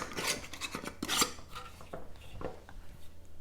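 A lid scraping and twisting onto a one-litre jar of dry hot chocolate mix, several close rasping rubs with a couple of sharper clicks.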